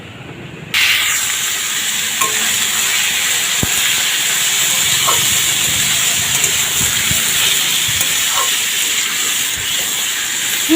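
A steady, loud sizzling hiss of potatoes frying in a pan starts suddenly and continues evenly, with faint clinks now and then.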